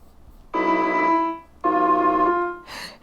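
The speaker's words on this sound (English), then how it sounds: "it's the same note is played multiple times whenever the mouse is on the circle" A p5.js sketch sounds the same synthesized musical note twice, two clean sustained tones separated by a short gap, followed by a brief noisy burst, with no talk.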